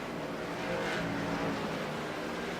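Race cars at an SCCA AdPro 360 Cup Series restart at Sonoma roar together as a sustained, dense engine wash, swelling slightly midway, fairly loud and steady with no talk.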